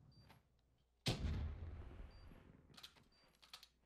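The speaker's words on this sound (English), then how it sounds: "I'm gonna nade the bomb right here." Grenade going off in Black Ops 3 multiplayer: a single sudden heavy blast with a deep boom that rolls off into a long fading rumble, followed by a few fainter distant pops.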